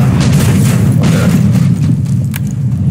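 A bomb goes off in the Resident Evil 2 video game, a loud, heavy low rumbling boom that rolls on continuously for several seconds.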